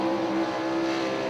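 A sprint car engine drones at high revs as the car rounds turn 4 on a solo qualifying lap at Eldora Speedway in Rossburg, Ohio, a steady loud harmonic roar with no break across the short stretch.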